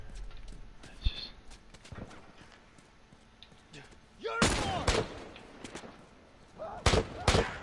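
Explosions and gunfire in The Last of Us multiplayer: scattered sharp shots and pops, then a loud blast with a crackling tail and a few more heavy bursts, with faint talk underneath.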